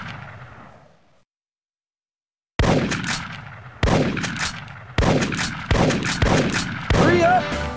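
Loud rifle gunshots in the Big Buck Hunter Pro arcade hunting game: one shot, a silent gap, then five sharp blasts in fairly regular succession, each with a short booming decay.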